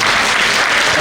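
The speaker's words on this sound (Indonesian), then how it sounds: "tepuk tangan sekali lagi buat Ibu Sri Mulyani" An audience claps loudly and continuously for Sri Mulyani, a dense, steady burst of applause from a full room.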